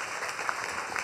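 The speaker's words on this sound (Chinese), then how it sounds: "拍掌让荣耀归给他。" A church congregation claps together during a pastor's sermon, producing a dense, steady wash of applause that holds at an even level through the short moment.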